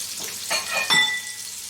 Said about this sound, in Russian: Добавляю сюда порезанный репчатый лук и готовлю до золотистости.